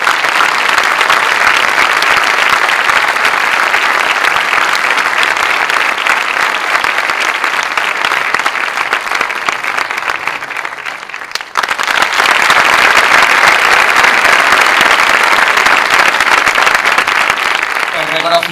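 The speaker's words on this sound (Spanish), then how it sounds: "Un aplauso para él, por favor." Sustained audience applause fills the hall at a Falange Española y las JONS anniversary commemoration, dense and steady, with a brief dip midway before the clapping swells back to full strength.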